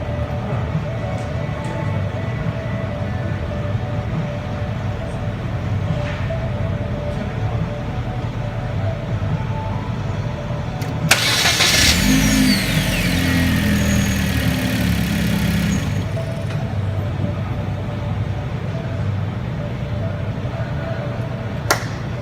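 A Hyundai Genesis fitted with a new starter cranks and fires on a cold start, a brief burst of starter whir and revving before settling into a steady idle, with a low engine drone throughout.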